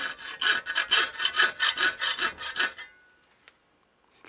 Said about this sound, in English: it's brass, it'll file nice and easily